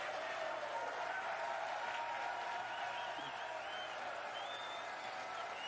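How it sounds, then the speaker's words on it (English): Crowd at the 2023 World Snooker Championship final between Luca Brecel and Mark Selby cheering and applauding, a faint, steady, distant wash of clapping and cheers with a voice briefly audible. "They're all cheering like he's just won the world championship"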